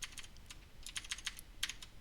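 Quick, light clicks of typing on a computer keyboard, entering figures into an online graphing calculator, irregular taps in short bursts, close and fairly quiet with no voices.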